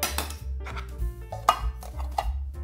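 Light metal clinks and scrapes from an IKEA backcountry pot being nested with other small camping cookware, a few sharp knocks among softer rattles, close and alone.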